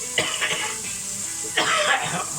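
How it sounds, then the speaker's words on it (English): Two harsh coughing fits, the first a short burst of coughs and the second after a pause, sound close and fairly loud inside a burger van where cheese-stuffed burgers are cooking. "the coughing started already"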